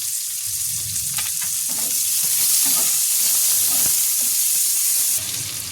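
Chopped onion sizzles steadily as it fries in a pan already used for frying fish heads, a close, continuous crackling hiss with faint stirring and no talk.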